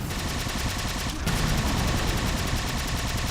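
Heavy, continuous gunfire in the video game Halo 4 Spartan Ops fills the scene, a dense, loud stream of rapid shots with a short break just past one second before the barrage resumes.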